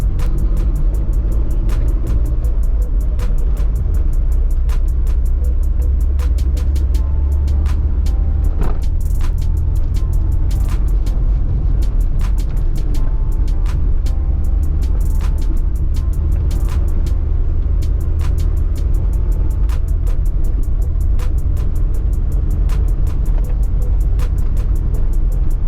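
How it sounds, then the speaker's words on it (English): A car driving southeast through Manchester, Jamaica, on the road from Mike Town toward Ward Avenue, Mandeville, with a steady loud low engine and road rumble throughout and faint clicks over it. "So I'm driving in the direction of southeast in Manchester."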